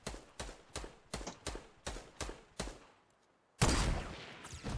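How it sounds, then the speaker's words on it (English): A regular series of eight or nine single gunshots from a Fortnite weapon, spaced evenly and close, is followed by a short pause. A louder, sustained burst of noise then runs to the end. "I was just shooting to see where the bullet would land."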